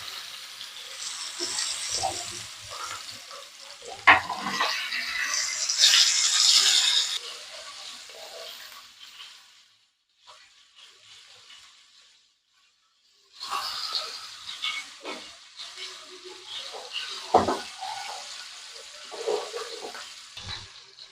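Mutton roasting in hot mustard oil on a tawa gives off a loud, hissing sizzle in bursts, dropping to near quiet midway before the frying noise swells again.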